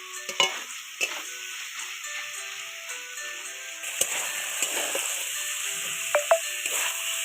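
A spice paste sautés in a pan with a soft, continuous sizzle, while a spatula stirs it and scrapes it with a few sharp knocks and scrapes against the metal, close by.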